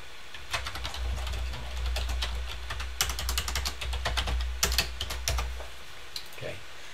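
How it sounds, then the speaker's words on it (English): Rapid clicking of computer keys as values are typed into an Excel spreadsheet, a close, quick run of taps that goes quiet near the end. "You can just start typing. Okay, and it'll enter the value there."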